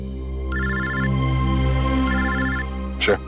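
A mobile phone rings loud and close in two repeated electronic tone bursts over a low steady background hum, followed by a brief clatter at the end.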